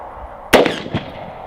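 A single sharp rifle shot of Fort Scott Munitions 5.56 NATO 62-grain ammunition rings out at a shooting range, followed a moment later by a fainter report from the round striking a distant steel plate.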